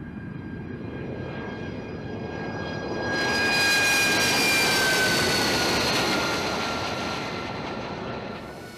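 An AV-8B Harrier II jet engine roars over water, a steady loud whine that swells around the midpoint as the aircraft passes closest, then eases slightly while staying strong, with no voices.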